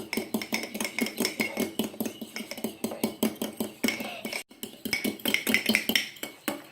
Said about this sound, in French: vous reprenez vos fourchettes et puis vous les mélangez. Ce qu'on appelle battre les œufs.